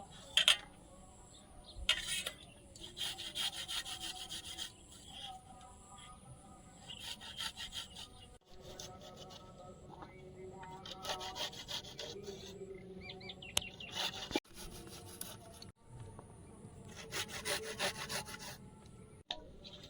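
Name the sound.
grating garlic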